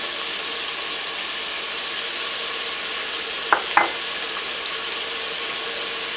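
Beef sizzles steadily in a stew pot, an even frying hiss with two quick clinks of a utensil against the pot midway as onion and garlic go in.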